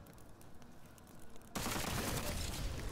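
Cricket gun firing in the video game Witchfire, a sudden loud burst of dense rapid fire that sets in partway through and keeps going steadily, with no talking.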